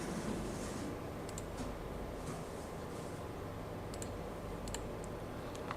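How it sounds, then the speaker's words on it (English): A few faint, sharp computer mouse clicks tick out singly and in quick pairs over a steady hiss, with no voices. "So click on it."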